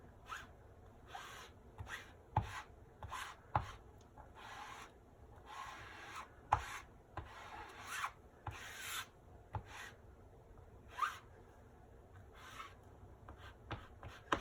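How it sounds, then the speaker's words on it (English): A 4-inch handled squeegee spreads chalk paste in quiet, close, repeated rubbing and scraping strokes at a steady rhythm, with no talking. "I'm going to use my 4-inch handled squeegee to start spreading"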